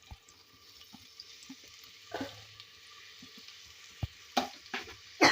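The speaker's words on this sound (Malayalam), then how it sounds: "അതിലേക്ക് ഒരു 4 സബോള അരിഞ്ഞതിട്ട് കൊടുക്കാം." Four chopped onions sizzle softly in a pan with scattered crackles and a few sharper stirring clicks, the frying steady and fairly quiet throughout.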